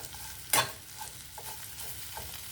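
Gongura leaves sizzle softly in a pan as a spatula stirs them, with one sharp scrape followed by quieter intermittent stirring strokes over a low, steady frying hiss, close and fairly faint, without speech.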